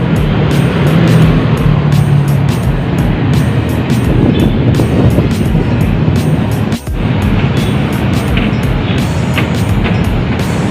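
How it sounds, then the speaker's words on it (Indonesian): Buses, including Po Haryanto coaches, pass through a bend on a busy city road. Their engines and tyres make a loud, steady, close roar of heavy traffic that never lets up, with faint high tones coming and going above it. "Ini banyak banget bus yang lepas ya, banyak yang lewat atas"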